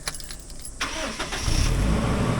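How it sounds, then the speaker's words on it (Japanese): A car engine cranks and catches, then settles into a steady, loud idle. The car has a newly replaced alternator, DC-DC charger and battery. "それではエンジンをかけさせていただきます。"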